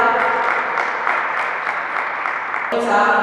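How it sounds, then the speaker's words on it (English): An audience at a cancer awareness event in Nigeria gives a brief round of applause, steady clapping under and alongside talk. "a round of applause for the first 5"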